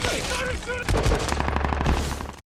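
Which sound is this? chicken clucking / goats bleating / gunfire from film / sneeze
gunfire from film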